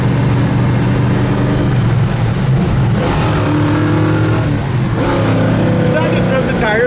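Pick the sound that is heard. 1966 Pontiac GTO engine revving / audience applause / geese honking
1966 Pontiac GTO engine revving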